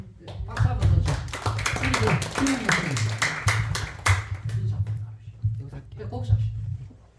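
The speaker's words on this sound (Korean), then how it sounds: "박수 한번 더 주세요" A church congregation at a Sunday worship service breaks into quick, dense hand clapping that thins out toward the end, with voices murmuring beneath the applause.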